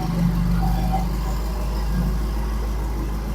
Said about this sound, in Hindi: एब्सोल्युटली मेनेसिंग रंबल इस गाड़ी का